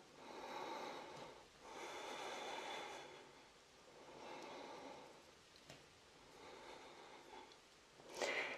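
Slow, deep breathing during an abdominal yoga exercise, long broad airy inhales and exhales in a steady rhythm, close and fairly quiet, with no talking.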